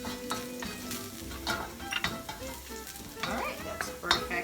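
Garlic frying in a pan as the first step of a home-cooked chow mein, crackling and sizzling with repeated stirring scrapes and utensil clatter, close but fairly soft.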